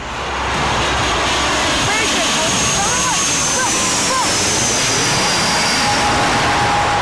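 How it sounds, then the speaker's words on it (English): A jet airplane landing near an airport runway gives a loud, steady roar with a thin high whine that slowly falls in pitch across the whole stretch. "a pilot who's landing his plane"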